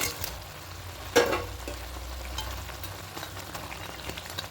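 Fried pabda fish going into a bubbling mustard gravy in a pan, with a steady close sizzle and simmer, one clear splash as the fish drops in, then light stirring.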